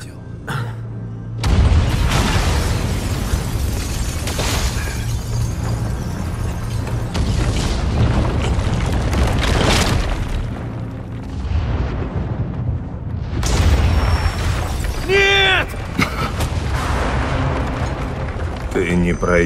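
Explosions in the video game Quantum Break: heavy booms and roaring blasts burst out repeatedly, loud and close, with debris-like crackle and a rumbling tail between the hits.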